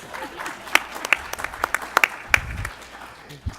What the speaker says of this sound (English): Go ahead, applause is okay.